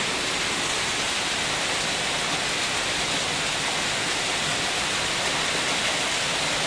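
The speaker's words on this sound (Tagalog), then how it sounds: "Lakas ng ulan guys, oh." Heavy rain pours down during flooding in Metro Manila, a dense, loud, steady hiss that stays constant throughout with no voices.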